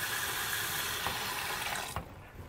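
Water runs steadily from an Empire Faucets dual knob chrome RV bathroom faucet in a camper, a close, even rush that cuts off abruptly near the end.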